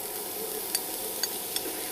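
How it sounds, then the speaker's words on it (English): Food sizzling in a frying pan at a chef's cooking demonstration, a steady close hiss with a few small pops and a light stir, no talk. "what we need to hear is that lovely little sizzle"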